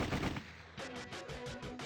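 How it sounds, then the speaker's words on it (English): Rapid bursts of gunfire from the visual novel game Sweet Fuse, a dense rattling volley followed by a steady run of evenly spaced loud shots, with no one talking over it. "Gunfire! It's not stopping!"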